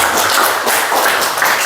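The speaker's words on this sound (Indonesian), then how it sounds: "Tepuk tangan untuk kelompok 1." Classroom applause for a student group, a steady dense patter of many hands clapping close by for just under two seconds with no talk over it.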